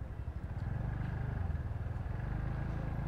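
Many bikers' motorcycles on a highway during an Independence Day ride rumble loudly together in a steady, close, throbbing drone.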